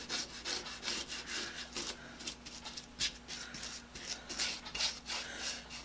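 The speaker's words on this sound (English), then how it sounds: "the hand wire brush took off a good bit of it" A hand wire brush scrubs stripper-softened paint off an aluminum part from a Doerr Electric Model 1499 motor, giving steady, close, gritty rasping strokes with an uneven back-and-forth rhythm and a faint low hum underneath.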